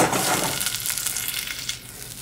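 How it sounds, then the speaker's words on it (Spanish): Chopped onion and garlic sizzle in a saucepan, giving a steady bright crackling hiss that eases slightly toward the end, close and alone with no talk. "Ya que está sofrita mi cebolla y el ajo"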